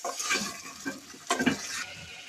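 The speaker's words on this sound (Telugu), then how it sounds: "ఇప్పుడు ముక్కలకు పట్టేలాగా అల్లం వెల్లుల్లి పేస్ట్ ఆ చికెన్ పీసెస్ పట్టేలాగా మొత్తం అన్ని ఒకసారి కలుపుకొని తిప్పుకుందాం." Chicken pieces coated in ginger garlic paste are stirred in a pan, giving close, wet squelching scrapes and a light sizzle in two short bursts.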